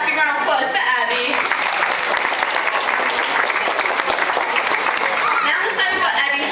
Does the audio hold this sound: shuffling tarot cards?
no